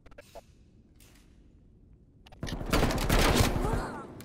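Video game gunfire crashes in after a quiet stretch: a dense, loud burst of rapid automatic shots that fills the second half, with scattered faint noises and a few soft clicks before it.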